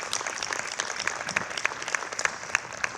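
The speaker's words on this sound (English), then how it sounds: "Please give him a big round of applause and thanks." Audience at a community center ribbon cutting clapping in thanks, a steady, fairly close round of applause with crisp individual claps throughout.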